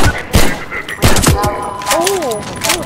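Gunfire in the Half-Life 2 video game: a few sharp, loud shots cracking out at separate moments, with other game sounds and a voice around them.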